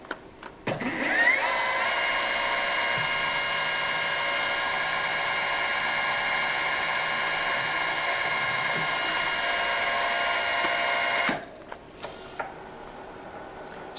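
A high-pitched drill whines steadily as it bores a 1/8-inch hole into a metal Stirling engine piston for about ten seconds, then stops abruptly, leaving faint shop noise.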